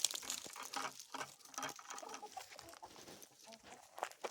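Chickens cluck softly and peck at feed made from acorn runoff, scattered quiet clucks and pecking taps close by with irregular rhythm and no talk.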